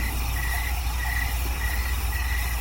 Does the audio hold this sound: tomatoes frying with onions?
no